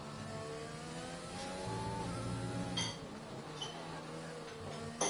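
A race car engine on a timed lap in a racing video game, running on medium tyres, holds a steady mid-pitched drone that rises and falls through gear shifts, continuous and fairly close with no voices over it.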